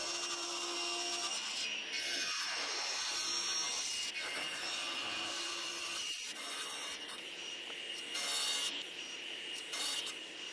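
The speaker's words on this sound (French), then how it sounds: "Puis je le scie pour me rapprocher des dimensions et de la forme finale." Continuous rasping strokes of a hand saw cutting through wood, close and steady with brief pauses between pushes.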